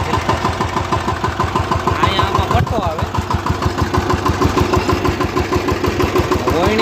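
Farm tractor engine running at a steady idle in the fields, a loud rhythmic low chugging pulse close by, with a voice speaking over it at times.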